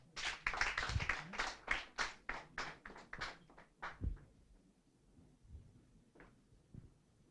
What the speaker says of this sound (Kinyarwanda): Nawe tumukomera amashyi.